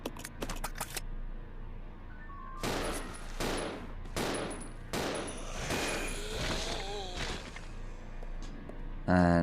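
Gunfire in the Resident Evil 0 HD Remaster video game, several sharp, loud shots in irregular bursts with short gaps and echoing tails, mixed with game sound effects.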